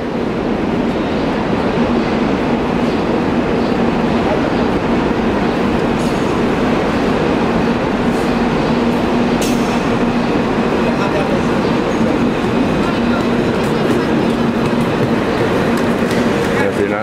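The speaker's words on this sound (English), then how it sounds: "This is the train for Tigre." Continuous rumbling passenger train noise, the train to Tigre, Argentina, with a steady mechanical drone and faint rattling throughout, heard from close by without a break.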